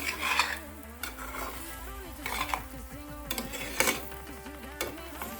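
Seasoned eggs frying in a pan are turned over with a utensil, giving repeated scraping and clinking strokes against the pan over a soft sizzle, close and moderately loud, with no talking.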